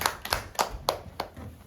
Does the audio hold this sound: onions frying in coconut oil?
no